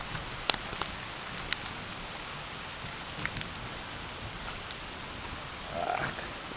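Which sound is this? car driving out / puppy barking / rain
rain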